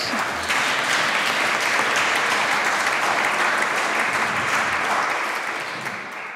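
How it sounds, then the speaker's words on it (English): Steady, dense applause from a design panel audience, loud and sustained throughout before tapering slightly at the very end. "So maybe another applause"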